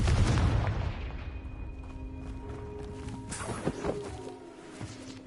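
A Confringo fire spell in Hogwarts Legacy lands with a heavy booming blast at the start, then a rumbling decay with scattered crackles and thuds as it fades out.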